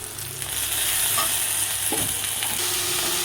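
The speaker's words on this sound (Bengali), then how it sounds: "ওদের একটু ভাজা ভাজা হয়ে গেছে" Onions and small shrimp frying in a pan, a steady close sizzle with scraping stir strokes against the pan and no talking.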